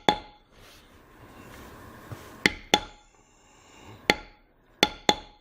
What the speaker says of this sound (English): So here I'm using this real leather border tool. It's a D436.